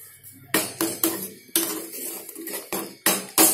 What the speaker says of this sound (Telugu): బెల్లం వేసుకున్నాక మిక్స్ చేసుకోవాలి బాగా.